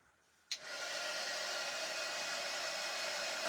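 After a moment of near silence, a hair dryer clicks on and keeps up a loud, steady rushing blow, close by and unbroken to the end.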